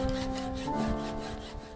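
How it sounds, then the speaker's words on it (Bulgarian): A hand saw cuts parts for a tool kit that fits in the trunk of a 1986 Honda Shadow motorcycle. It makes steady, close rasping strokes in a regular back-and-forth rhythm with a slight squealing ring, and no talking. "Резваме ето тази и тази част."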